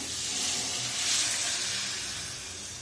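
Water is added to a hot pan of frying lamb intestines, giving a steady sizzling hiss that swells briefly and then eases, with no voices.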